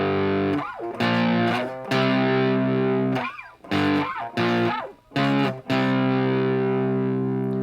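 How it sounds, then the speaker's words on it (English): Distorted electric guitar chugging standard power chords through a riff, loud and close, with short rhythmic chord stabs separated by brief gaps and sustained ringing chords, no voices. "They'll play the traditional standard power chord like this."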